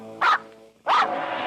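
Two sharp dog barks from a radio skit sound effect, loud and close, spaced under a second apart with a tonal hum lingering beneath.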